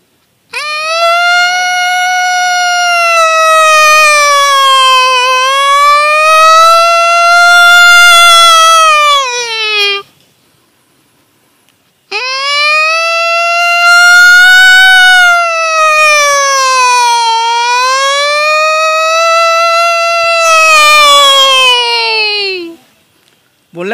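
A man imitates an ambulance siren with his voice, holding two long, loud, rising-and-falling wailing tones separated by a brief pause, with no other sound behind them.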